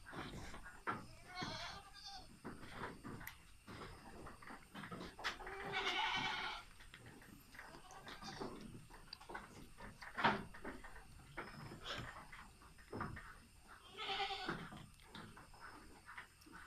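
Goats bleat repeatedly at a moderate distance, several calls scattered over a busy farmyard background with occasional knocks.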